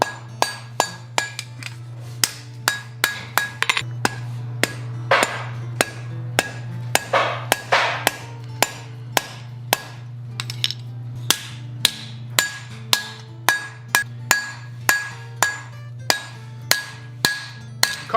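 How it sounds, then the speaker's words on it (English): A hammer forging red-hot copper bar stock into a square for a sculpted mask, striking in a steady run of sharp, ringing metallic blows, close and loud, over a constant low hum and with no voices. "Copper feels so much different under the hammer. It's very soft and just moves differently."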